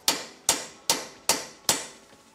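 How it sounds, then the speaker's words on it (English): Five sharp, evenly spaced hammer blows drive an installer bolt and sleeve into a car suspension knuckle during a Subaru BRZ coilover install, each strike ringing briefly and decaying before the next. "mount it like so and whack it in with a hammer"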